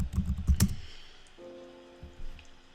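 A brief burst of computer keyboard typing, quick close clicks clustered at the start, then the keys stop and a faint steady electronic hum remains.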